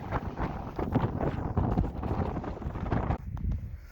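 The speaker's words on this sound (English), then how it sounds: "It did get a little windy when we got to the other side." Gusty wind buffets the microphone on the exposed ledges of Longs Peak, a 14,255 ft Colorado Class 3 fourteener, as a steady, loud roar and rumble with brief dips, no talking.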